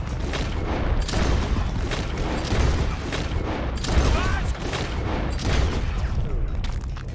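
A shootout in the Red Dead Redemption 2 video game, with loud, dense volleys of gunfire and booming shots in repeated bursts, mixed with voices shouting over the fight.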